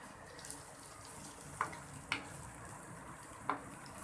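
A pan of onion, tomato, red chili powder and salt masala frying quietly over a medium flame, with a soft, even sizzle and a few sharp clinks of a spoon stirring against the pan.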